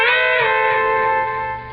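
Electric guitar through a Digitech Harmony pedal, a bend played into the wrong note so the harmonized voices waver and clash briefly before settling and fading, alone without talk.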